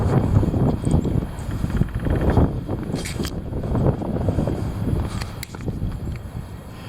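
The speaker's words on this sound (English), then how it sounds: "There it is. The heavy wind." Heavy wind blowing outdoors, a steady loud rumbling roar with gusty buffeting against the microphone throughout, no voices.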